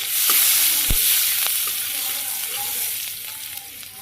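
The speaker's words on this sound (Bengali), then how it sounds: "এখানে পেঁয়াজ কুচি দিয়ে দিতেছি।" Chopped onion goes into hot oil already crackling with cumin and dried red chilli, setting off a bright, constant sizzle with a couple of soft knocks from a utensil and no talk.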